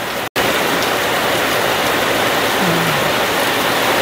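Heavy rain in Rizal, Philippines, pours down as a loud, steady hiss that fills the whole scene without a break.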